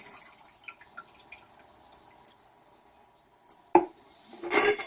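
Faint, scattered drips of water fall from wild red prawns and a pan lid in a quiet kitchen, ending in a sharper clatter and a brief louder splash.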